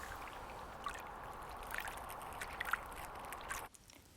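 Gentle water sloshes and laps at the Breydon Water nature reserve, a soft continuous outdoor wash with faint splashes, fading sharply near the end.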